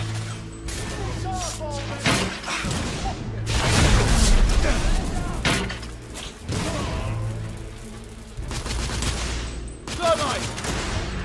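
Heavy gunfire in The Order: 1886, with dense bursts of rifle and thermite rifle shots and booming impacts coming in waves at close range, while characters shout over the fighting.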